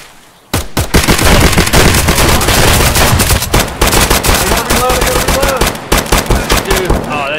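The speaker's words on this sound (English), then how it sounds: "They're shooting a gas station." Rapid bursts of gunfire from the video game Escape from Tarkov, with a gunfight around a gas station: loud, dense volleys of shots in quick succession after a brief quiet start, with faint voices in the background.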